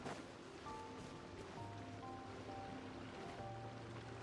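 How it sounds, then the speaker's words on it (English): Video-game waterfall in Genshin Impact, a continuous rushing wash of water under tonal game music, fairly quiet with no speech over it. "Just another waterfall down in."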